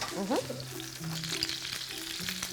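Poultry suprêmes browning in a frying pan, a steady close sizzle with faint scraping and low background murmur of voices.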